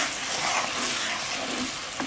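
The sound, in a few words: stirring sugar into boiling coconut milk for halayang ube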